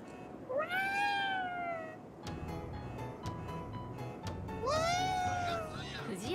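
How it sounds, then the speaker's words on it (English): A cat yokai in the video game Ghostwire Tokyo gives two long, rising-and-falling meows separated by a pause, clear and close, over faint background game sounds. "Is that a cat? Technically, it's a yokai."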